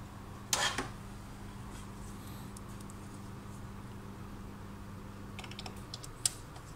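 A screw being tightened during DTF transfer work, heard as a few faint, sharp clicks and ticks over a steady low hum, with a brief burst near the start and another near the end.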